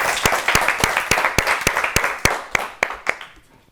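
Studio audience at an Ethiopian children's quiz show clapping in unison, a brief run of about a dozen sharp, evenly spaced claps that quickly die away.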